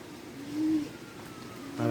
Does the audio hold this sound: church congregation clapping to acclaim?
no